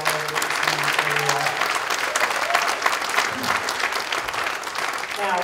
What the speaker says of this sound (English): So I want to give them a round of applause because they worked really hard over this time.